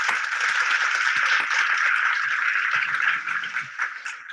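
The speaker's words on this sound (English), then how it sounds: "Let's give a big round of applause to, wait for it, Melanie." Applause sound effect played into a Zoom meeting, a dense continuous patter of many hands clapping at moderate loudness that fades slightly toward the end.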